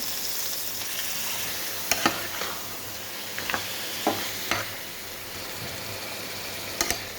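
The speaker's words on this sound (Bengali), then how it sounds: "এখানে আইড় মাছটা রান্নার জন্য মশলাটা কষিয়ে নিচ্ছি। আদা রসুন দিয়ে দিচ্ছি।" A spice paste with ginger and garlic is fried for an aar fish curry, giving a soft, continuous sizzle with several sharp spoon scrapes and taps against the pan, fairly quiet and with no talking.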